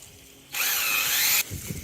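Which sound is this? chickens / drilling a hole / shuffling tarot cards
drilling a hole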